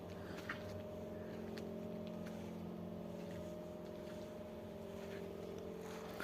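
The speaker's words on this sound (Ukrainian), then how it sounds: "Заводиться з півоберту, мотор працює без лишніх шумів." An STZ 892 tractor engine drones at an even idle throughout, a low rumbling hum with no pauses or extra noises, close by and fairly quiet.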